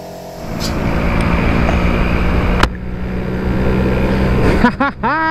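A Vespa scooter fitted with a custom Excel gear ratio and a back rack is ridden on the road, giving a loud, steady roar of engine and rushing wind with a rising and falling engine whine near the end.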